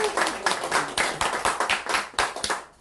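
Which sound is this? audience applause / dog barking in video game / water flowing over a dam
audience applause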